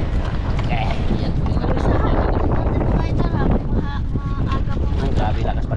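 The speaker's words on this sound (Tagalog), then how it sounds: "Ang grabe, lakas pa rin talaga ng hangin mga idol." Strong sea wind behind an island batters the microphone in a loud, continuous roaring rumble near a boat, with faint voices breaking through now and then.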